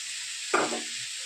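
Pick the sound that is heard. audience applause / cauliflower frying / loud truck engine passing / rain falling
cauliflower frying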